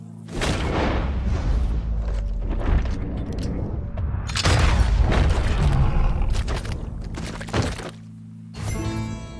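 Gunshots fired at a loose lion ring out as several loud booming thuds, spaced bursts of impact noise with rumbling tails and little talk over them.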